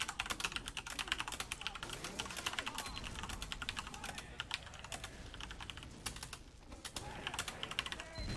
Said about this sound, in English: just typing everything out as I'm casting